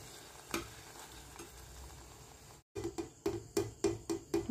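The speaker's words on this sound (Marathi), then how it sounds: "तेल छान गरम झालेले आहे, त्यामध्ये ह्या पुऱ्या तळून घ्यायच्या।" Batata puris frying in hot oil over a low flame give a steady close sizzle, which breaks briefly and then returns with rhythmic bubbling bursts as more puris are slid in or turned.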